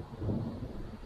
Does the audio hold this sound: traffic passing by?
no